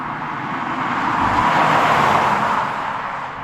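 A Toyota GR Corolla hot hatch with a 300 hp three-cylinder engine drones steadily, swelling slightly in the middle and easing off, with no voices.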